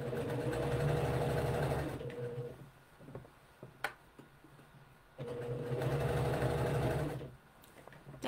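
A sewing machine stitches down a shirt sleeve in two bursts of steady, close whirring, separated by a quiet pause for readjusting, with a faint knock or two in between.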